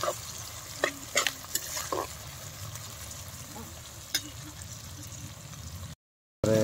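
Chicken curry stirred in a pot, a spoon knocking and scraping several times over a low frying sizzle, near and without talk, then a brief cut to silence.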